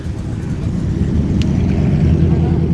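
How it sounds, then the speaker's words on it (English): Deep, steady V8 rumble from a classic Triumph Stag idling close by among parked classic cars in a public car park, a continuous low engine drone held for the whole stretch. "Nice V8 rumble of the Stag behind me."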